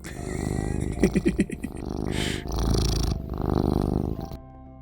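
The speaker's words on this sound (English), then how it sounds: "I hear the purrs of Happy Cat Lady" A Minecraft cat purrs in soft rhythmic pulses, appearing in short repeated bursts at close range among other game sounds.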